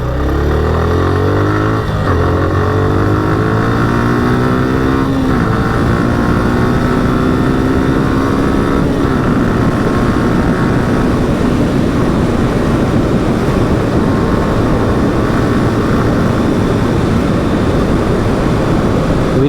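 A motorcycle rides along a village road, its engine droning loud and close with gear changes and rising pitch early, then a steady roar with wind noise throughout.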